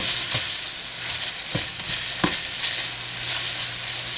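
Sausage sizzles steadily in a hot pan while a utensil scrapes and stirs it a few times, breaking it up, close with no talking.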